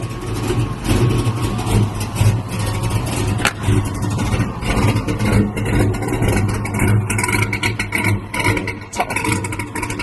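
A Chevrolet S10 pickup truck fitted with a Cherry Bomb muffler idles as it warms up after starting, a loud, steady, deep exhaust rumble with slight swells in revs.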